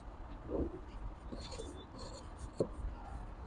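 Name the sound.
birds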